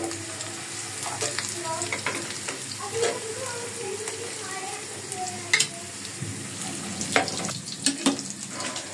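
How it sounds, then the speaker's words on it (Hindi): Dal being tempered in a pan: a steady sizzle of frying with scraping stir strokes and clinks, close up, and some faint water running in the background. "दाल को अभी फ़िलहाल मैं तड़का लगाऊंगी"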